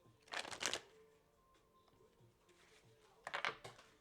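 Two short bursts of tarot cards being riffled and shuffled, one at the start and another near the end, with a quiet pause between them.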